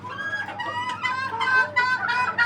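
Caged chickens at a poultry farm cluck and squawk in a continuous close chorus, with overlapping calls rising and falling and a couple of louder bursts.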